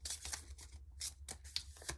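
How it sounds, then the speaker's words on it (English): A deck of cards is shuffled during a tabletop session of the board game After the Virus, making quick, faint papery riffles in several short bursts. "The top half of our deck, we're going to shuffle"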